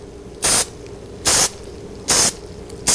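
Four short, evenly spaced hissing bursts of flour cooking spray into a bundt pan, crisp and close, with quiet gaps between each spritz.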